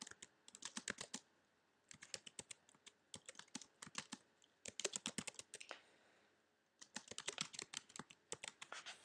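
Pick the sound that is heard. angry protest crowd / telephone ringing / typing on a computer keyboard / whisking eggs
typing on a computer keyboard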